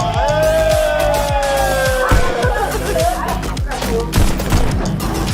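Rapid gunfire from the VR shooter game Pistol Whip rings out as a steady run of close, punchy shots, mixed with bright electronic game tones, while people talk excitedly.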